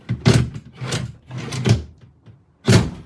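The crooked drawer of a white HODEDAH IMPORT microwave kitchen cart gives several loud, close clunks and rattling knocks as it is yanked and pushed, with short pauses between bursts.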